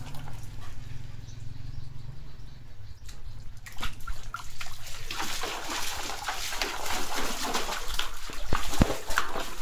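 A dog splashes and plays in morning water, with scattered splashing, drips and sloshing that grow busier and louder toward the end, close by and with no talking.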